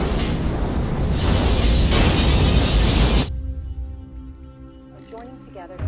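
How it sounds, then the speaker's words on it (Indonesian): A weapon in a film self-destructs in a loud, close explosion that roars for about three seconds and then drops away sharply. A low rumble lingers, and a voice speaks faintly near the end. "Simon kemudian menggunakan fitur penghancur diri di senjatanya untuk menghilangkan jejak"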